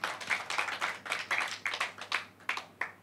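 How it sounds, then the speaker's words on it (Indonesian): A church congregation at a Sunday worship service clapping in a steady rhythmic beat, crisp repeated claps from a modest crowd, nearby and without talking. "Kasih tepuk tangan buat Tuhan."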